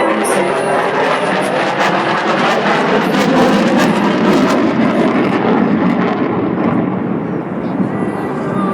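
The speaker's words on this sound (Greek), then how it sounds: "επιδεικνύει την ικανότητα του F-16 να πετάει σε χαμηλό ύψος και με μεγάλη ταχύτητα" A Hellenic Air Force F-16 fighter jet roars continuously overhead during a low, fast pass at an air show at Tatoi, a loud broadband engine rumble and hiss that thins slightly near the end.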